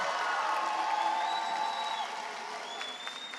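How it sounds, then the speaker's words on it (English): A commencement crowd applauds graduates of the Cleveland School of Architecture & Design class of 2024, sustained clapping with scattered cheers and whoops that slowly eases, accompanied by a faint tonal whistle. "let's give our graduates another round of applause"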